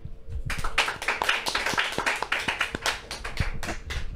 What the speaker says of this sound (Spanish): terminamos esta temática con un fuerte aplauso